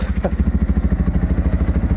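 A motorcycle engine idles close by before a ride to San Nicolas, Batangas, giving a loud, steady, rapid pulsing throb with no talk.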